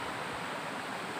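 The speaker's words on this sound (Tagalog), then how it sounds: "Ito ang sapa." Steady broadband rush of a flowing stream near a dig site, constant and fairly close with no pauses, voices or other sounds over it.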